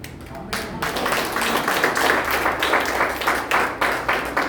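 A church congregation clapping during a sermon, with steady rhythmic applause from a crowd that swells and repeats in close bursts.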